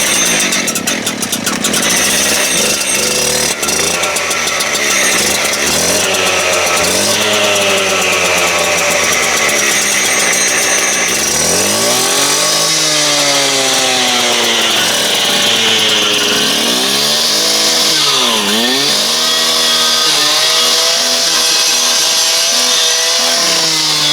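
A Stihl chainsaw starts and runs loud and close for the whole stretch, its engine revving up and down in repeated rising and falling sweeps with no talk over it.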